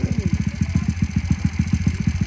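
A Mobilete moped engine fitted with a carburetor-injection conversion runs with a close, steady, rapid thumping pulse, even and mechanical throughout.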